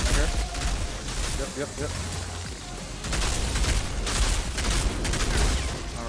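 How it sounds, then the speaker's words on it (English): Automated turret fire from the Technomancer class in the video game Outriders, rapid bursts of gunfire layered with explosions and booms during a Colosseum battle, with someone speaking briefly over the dense, continuous combat noise. "Throw this turret down again."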